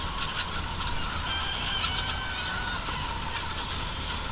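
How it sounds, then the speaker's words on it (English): A flock of feisty California White chickens at early-morning feeding fills the air with dense, overlapping clucks and squawks, a constant busy chorus close by. "There's a lot of chickens at the moment"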